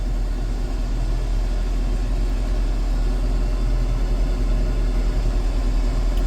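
A steady, low Massey Ferguson tractor engine idle on eco PTO rumbles continuously at an even pitch, close by and fairly loud, with no change in revs throughout.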